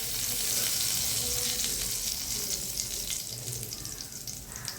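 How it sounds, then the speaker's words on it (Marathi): Mustard seeds and cumin splutter in hot oil in a pan, a close, dense crackling sizzle that starts loud and eases slightly toward the end, with no talk. "त्यामुळे ते दोन्ही तडतडू द्यायचे आहे तेलात चांगल्या प्रकारे"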